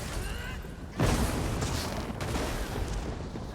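Explosive burst in a modded video game: a sudden loud boom about a second in, followed by a sustained crackling, rumbling roar that fills the rest of the clip.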